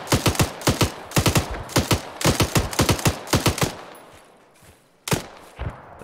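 A suppressing squad's rifles and machine guns firing in Arma 3: rapid, loud, close bursts of shots in quick clusters, tapering into scattered echoing reports after a brief lull.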